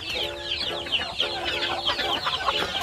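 Chickens cluck repeatedly in short, overlapping calls, with several birds chattering together against a busy, close background.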